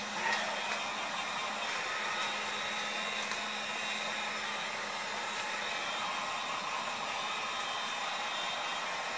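Heat gun blowing hot air on vinyl wrap over a car door handle, a steady close airy whoosh with a faint motor hum that holds evenly throughout.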